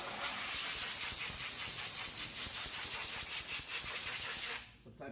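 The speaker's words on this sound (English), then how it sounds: "take an air nozzle, blow the dust and debris out of the coils" A continuous loud hiss of compressed air from an air nozzle blowing dust and debris out of HVAC coils, close and steady before cutting off abruptly near the end.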